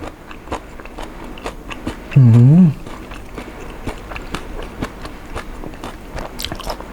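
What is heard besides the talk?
chewing giant oysters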